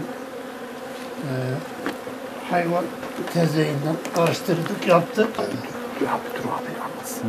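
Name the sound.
bees buzzing around mud hives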